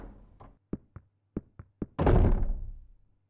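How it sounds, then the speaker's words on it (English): Several knocks and thunks from a door in the PS1 horror game Clock Tower, spaced irregularly, then a louder rumbling swing as the door opens, fading out; close and alone with no talk. "But then take forever to open the door."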